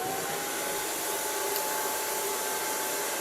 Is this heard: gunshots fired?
no